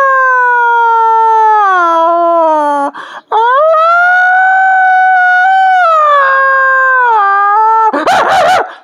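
A man imitates a jackal's howl with his voice: a long, loud, wavering tonal howl that rises and falls, breaks briefly near the middle, and ends in a rough burst, with no background noise.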